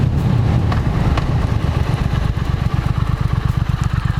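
A 2018 Triumph Thruxton motorcycle ridden hard, its engine loud and close with a throbbing, pulsing exhaust note under rushing wind.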